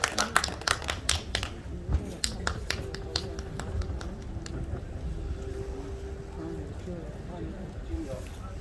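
A crowd at a rally against election fraud claps to welcome Hwang Kyo-ahn, starting with sharp, scattered claps in the first seconds that thin out into a steady murmur of background noise.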